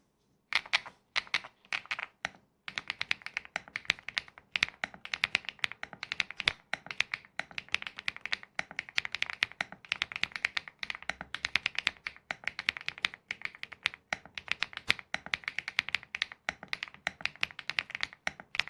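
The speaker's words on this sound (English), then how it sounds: "The typing sound on the full kit is quite good." Mechanical keyboard typing on a full kit, a long run of quick, crisp key clacks in uneven bursts with brief pauses, close and clear with no talk over it.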